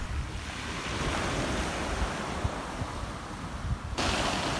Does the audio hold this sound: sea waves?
yes